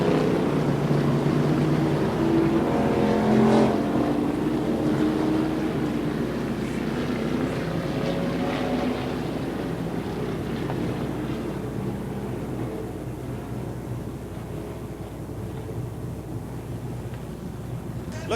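NASCAR Winston Late Model and Charger race cars lap Raven Raceway mid-race. Their engines make a steady, fairly loud droning roar with some wind buffeting, and no voices are heard.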